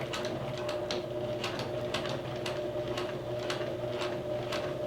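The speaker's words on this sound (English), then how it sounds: "Okay, so it's stitching a straight line and then it's going over and jumping over there and catching the other fabric." A sewing machine stitches fabric for an under-sink curtain, its steady mechanical hum overlaid with fast, regular ticking clicks from the needle, close and moderately loud throughout.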